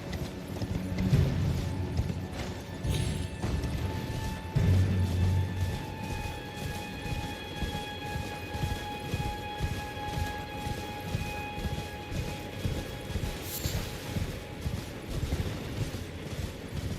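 Steady rhythmic clip-clop of horse hooves galloping across ground in Elden Ring, loud and continuous throughout with a constant pace, mixed with faint game ambience and a few mechanical clanks.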